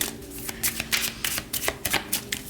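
Tarot cards shuffled and handled during a card reading, a run of quick papery riffles and flicks in uneven bursts, close and fairly quiet, with no voice.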